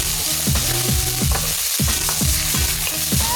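Vegan pad thai ingredients stir-fry in a hot pan with oil, a steady loud sizzle broken by rhythmic scraping strokes of the spatula roughly every half second.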